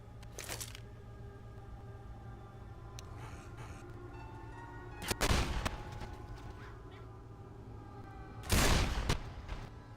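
Magnum pistol gunfire in Left 4 Dead 2: a few loud, widely spaced booming shots, each with a sharp crack and a brief tail, over a steady background hum.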